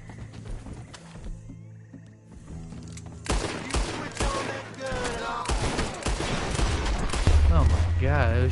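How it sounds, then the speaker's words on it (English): Gunshots in the video game Red Dead Redemption 2, a rapid volley of shots alongside horse sounds and game ambience, mixed with voices talking. "he just pulled out the gun and started blasting at me."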